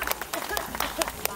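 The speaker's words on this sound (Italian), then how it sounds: "Facciamo un applauso anche a Roberto!" Audience applause at a live concert, with scattered, irregular hand claps that continue steadily through the brief moment at a moderate level.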